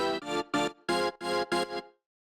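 An offbeat synth in a tech house production plays a Serum preset built on a step sample, with added wavetables and filtering. Six bright, harmonically rich chord stabs pulse in a steady rhythm, each cut off sharply before the next, and nothing plays underneath.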